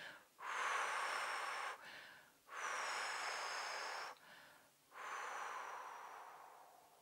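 A woman demonstrates slow, prolonged breathing for coping with labour contractions. Three long, audible breaths are drawn in and let out close to the mic, each swelling and fading in a calm, unhurried rhythm, with no talk.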